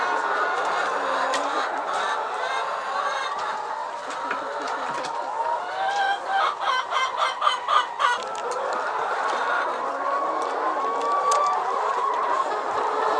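Chickens on a poultry egg farm, young birds gathered in the corners, clucking steadily in a dense, busy flock chorus, with a burst of sharper rhythmic calls in the middle.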